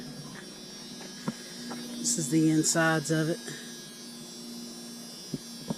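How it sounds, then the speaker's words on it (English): A key-in-ignition warning buzzer in a 1997 Dodge 3500 truck drones as a steady, moderate tone through the whole stretch, while someone talks over it partway through. "Sorry for the buzzing the keys in the ignition."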